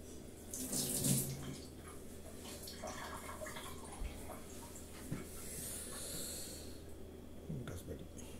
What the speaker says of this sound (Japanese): じゃあ次ラズベリー、ちょっと2個さっき洗っておきます。